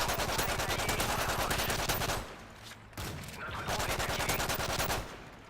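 Rapid automatic gunfire from MP7 and FMG9 weapons in a video game, loud continuous bursts with a brief lull midway before the firing resumes, dense and close.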